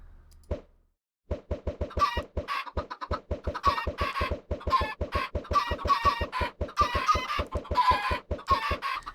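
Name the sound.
chickens clucking in a video game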